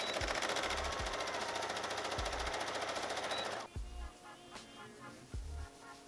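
A sewing machine stitches a pant waistband: a loud, fast, rattling hum runs for several seconds and then stops abruptly. Quieter handling clicks and soft knocks follow.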